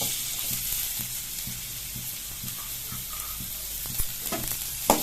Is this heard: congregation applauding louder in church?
no